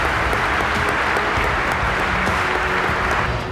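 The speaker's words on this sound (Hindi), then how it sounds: "के बाद तालियां गूंजने लगी।" Applause fills the British Parliament after Zelenskyy's speech, a loud, dense and sustained roar of clapping from a large crowd with no break.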